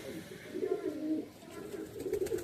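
A very young Regder pigeon chick gives soft, low cooing calls in short repeated phrases, close and fairly quiet.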